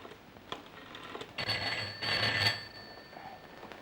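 An old-style telephone ringing in a home, a bright metallic bell trill in bursts at moderate distance, with a pause between rings and quiet room tone.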